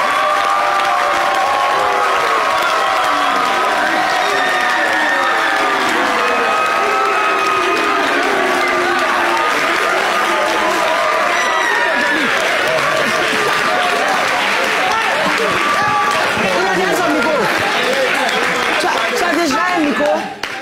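Audience applause and cheering for the singer fill the space, a dense, steady crowd roar with claps and shouts sustained loudly throughout, with voices mixed into the din.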